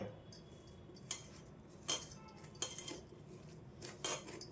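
A spoon clinks and scrapes through an onion and spice filling in a bowl, producing scattered sharp metallic taps over a quiet background.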